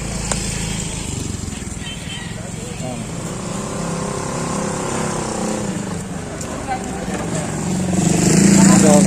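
A motorized tricycle's engine drones steadily close by, rising in loudness toward the end, while people talk over it.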